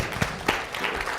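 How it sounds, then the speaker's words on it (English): Audience at a Black History Month unity forum claps briefly, a short burst of scattered hand claps, moderately loud and close, with no talk. "We should clap for that."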